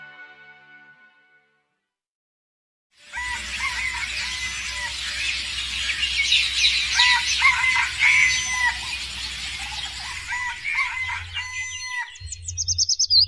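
Cartoon hen clucking and crowing-like fowl calls, loud and continuous after a brief quiet start, with bright chirpy effects layered over a low steady hum.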